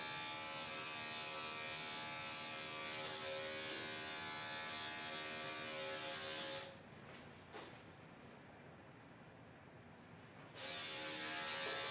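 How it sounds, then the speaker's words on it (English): Electric dog grooming clipper fitted with a 10 blade, cutting in reverse on a senior rescue dog's coat, giving a steady close buzz that dips and softens for a few seconds mid-clip before returning to full strength. "I'm forcing it to go up into my clipper blade"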